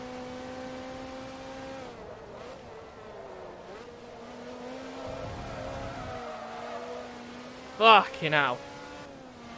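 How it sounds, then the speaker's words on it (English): Game engine drone of a Ferrari race car in Forza Motorsport 2, a steady mid-loud hum that shifts pitch as the car speeds up, with a brief tire squeal near the end and someone talking over it. "Oh, this Ferrari is so unstable."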